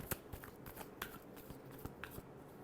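Tarot cards being shuffled by hand, a steady run of soft riffling flicks and taps close up, with no talking.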